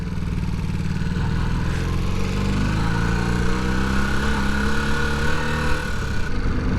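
A Honda CB250 Super Dream motorcycle cruising under load, its engine droning steadily and loudly with shifting pitch as the revs rise and settle, with no talking.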